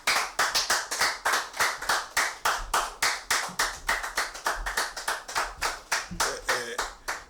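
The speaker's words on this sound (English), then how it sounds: "with a clap, shall we invite to the microphone our very own comrade" Rhythmic clapping from an audience welcoming a speaker to the microphone at a public gathering, about twenty steady, evenly spaced claps close by, with no talk over them.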